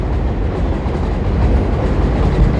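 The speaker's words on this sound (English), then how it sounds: "Or the subway behind me. It's making noise, so I'm gonna just let it pass." A subway train rumbles past close by, loud and steady, with a dense rolling roar and faint clickety-clack of wheels. No voice is heard.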